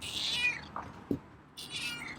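A feral cat meows a few times nearby, soft drawn-out calls separated by short pauses in an otherwise quiet room.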